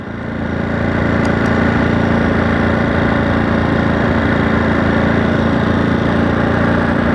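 Engine of a brand-new 2023 Ducati Monster 937 SP motorcycle with 5 miles on it, running with a steady, loud, broadband drone that holds level throughout and has no talk over it.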